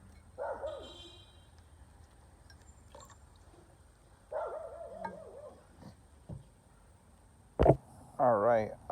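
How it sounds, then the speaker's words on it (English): A pet dog barks indoors in a few short separate bursts spread across several seconds, fairly close, with quiet pauses and faint clinks from lab glassware in between. "Sorry, there's my dog."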